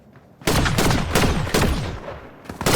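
Assault rifle fire in a video game rings out as a loud, close burst of rapid shots with sharp cracks, a brief lull, then more shots.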